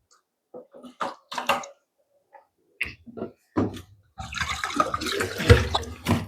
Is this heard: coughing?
no